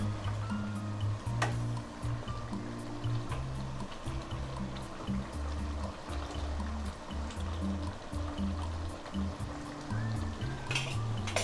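Chicken fry simmering in a pan with water still in it, a steady close bubbling and crackling with a low hum underneath, and a few sharp clicks near the start and end.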